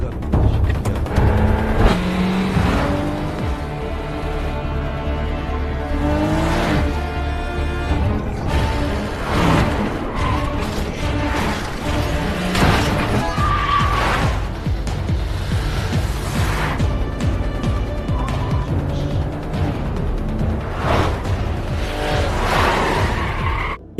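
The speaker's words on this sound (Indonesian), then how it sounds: "Dengan cepat ia langsung menancap gas dan langsung pergi dari sana." A car speeding away with squealing tires and a revving engine, loud and continuous for the whole stretch, with skidding and roaring motor sound dominating throughout.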